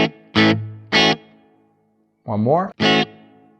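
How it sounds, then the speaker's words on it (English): Electric guitar played through a Fender Mustang Micro amp with its hall reverb effect gives a few separate strummed chords with lingering tails and one bending phrase, and someone speaks briefly between them. "You hear the Hall Reverb coming in."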